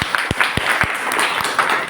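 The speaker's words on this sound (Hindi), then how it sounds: "मैं इनके लिए जोरदार ताली चाहूँगी," An audience applauding at a women's empowerment event in India, with loud, close individual claps standing out over a continuous crowd of clapping.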